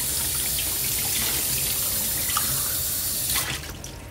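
Cold water runs steadily from a kitchen tap into a container for tempura batter, a loud continuous close-up gush that eases off near the end.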